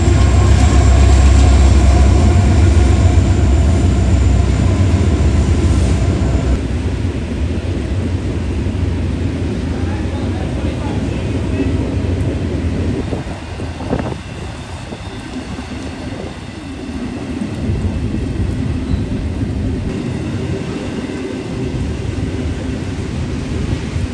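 Westbound intermodal freight train led by two AC44C6M locomotives sandwiching an SD70ACe, rumbling loudly and steadily close by with heavy low-end roar that eases slightly after the first few seconds, wheels and cars clattering past.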